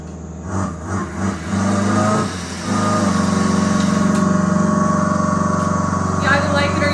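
A Bluetooth exhaust speaker fitted to a bike plays a simulated engine sound, a steady, loud hum that rises after a brief throttle blip and holds, with a person talking over it.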